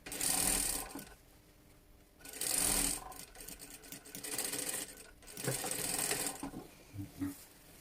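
A sewing machine stitches net onto a dress lining in four short runs of rapid, whirring needle strokes, each run separated by brief quiet pauses, heard close up.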